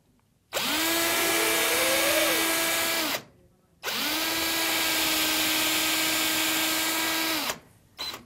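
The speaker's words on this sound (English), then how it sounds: "Just about finished reaming up our foregrip." A power-driven reamer bores out a cork fishing rod foregrip in two long steady whirring runs, each several seconds, separated by a short pause, loud and close with no talking.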